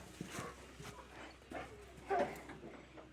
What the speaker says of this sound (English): Dog, you don't need to bark at everything that you see.